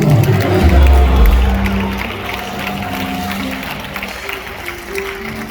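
A church congregation clapping and shouting during a fiery worship moment, a loud roar of crowd noise and clapping at the start that eases into sustained, busy cheering and voices.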